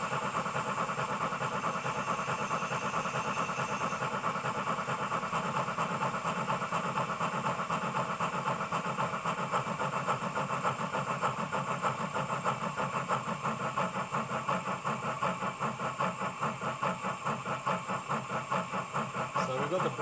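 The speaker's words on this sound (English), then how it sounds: "you'll notice that the locomotive will slow and start labouring" An ESU model steam locomotive sound slowing and labouring under braking, a continuous steady chuffing with hiss and mechanical rumble, loud and close throughout with no voices.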